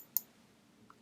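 A single sharp computer mouse click sounds close up in near silence, with a fainter tick following just before the end.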